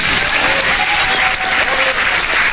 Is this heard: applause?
yes